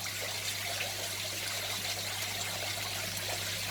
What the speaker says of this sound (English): Now we can slowly pour these guys in into their new home